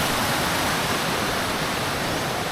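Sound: flowing clear stream water

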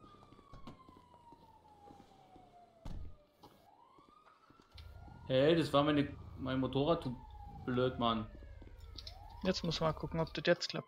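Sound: ambulance siren in GTA V video game

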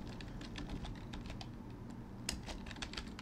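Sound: typing a command on a computer keyboard

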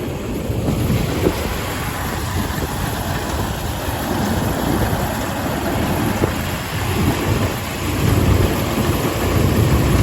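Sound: tractor engine idling

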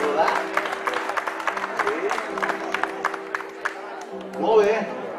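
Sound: audience applauding for Nora

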